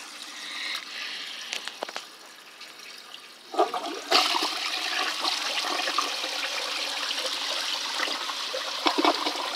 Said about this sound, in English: I'm gonna flush some freaking cardboard down it.